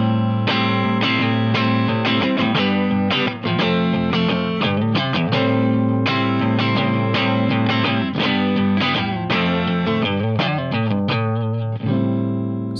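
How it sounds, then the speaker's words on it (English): Clean electric guitar bypassing the preamp of a Boss CE-1 chorus ensemble reissue pedal, playing a steady run of plucked notes and chords, close and loud, thin and bright with no voices. "So here's the sound of the guitar not going through the pedal's preamp."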